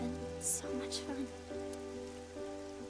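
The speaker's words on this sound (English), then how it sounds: "It totally is raining indoors." Indoor rain in the video game AI: The Somnium Files, a steady wash of falling water with soft drop patter, playing under sustained game music tones throughout.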